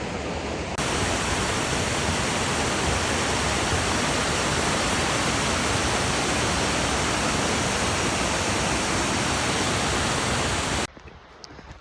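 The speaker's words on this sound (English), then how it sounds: "Got to cross the river." River water rushing during a hike at Eagle Creek, a dense, loud, steady roar of flowing water close by that cuts out sharply near the end, with no voices.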